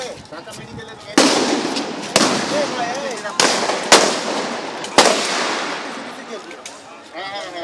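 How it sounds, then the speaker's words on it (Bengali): Police rifle gunfire on protesting students in Dhaka, five or six sharp loud shots spaced about a second apart, ringing out over a noisy outdoor scene with shouting. "বন্দুকের গুলি শেষ হলে আবারও লোড করে ম্যাগজিনের পর ম্যাগজিনের গুলি চলে শিক্ষার্থীদের উপর"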